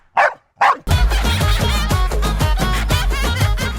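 A dog gives two short, loud barks close by on a television dance show set, and then loud music takes over.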